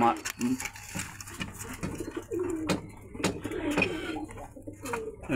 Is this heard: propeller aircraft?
no